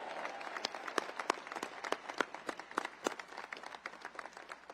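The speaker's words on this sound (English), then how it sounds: "Round of applause for all of them." Guests at a US Air Force Academy graduation event applaud, a quiet, fairly sparse patter of individual claps heard from a distance, with a few sharper hand claps standing out.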